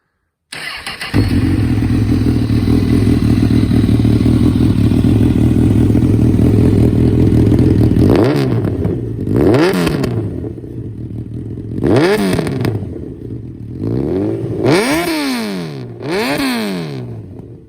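A 2014 Honda CB1000R motorcycle engine starts and idles steadily at close range, then is revved several times in sharp rising and falling bursts, loud and alone.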